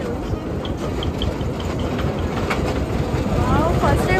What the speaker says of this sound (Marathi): हे बघा आली टॉय ट्रेन